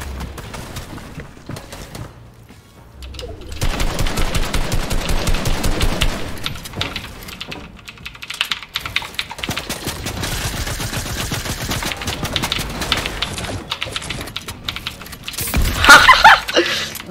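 Video game gunfire from an arena shooter, bursts of shots crackling through a busy, noisy mix of sounds for most of the stretch, growing louder near the end.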